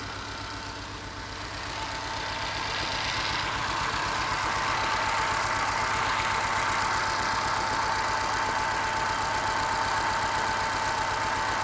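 A car engine idles steadily at a warm test run with a new distributor cap, rotor and disconnected leads, its fault giving a rough, even knocking pulse that runs loud and close throughout with no talk.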